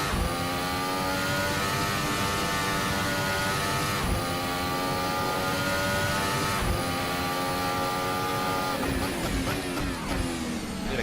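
A Formula Hybrid race car from a 2018 event accelerates on track, its engine a loud, steady, close-up drone that holds for the whole stretch with slight shifts in pitch and no voices.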